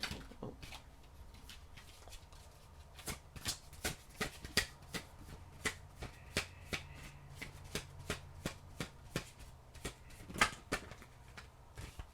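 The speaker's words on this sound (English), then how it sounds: "See if we can figure out how to shuffle." Oracle cards are shuffled by hand in quiet surroundings, a series of soft crisp riffles and taps in irregular bursts.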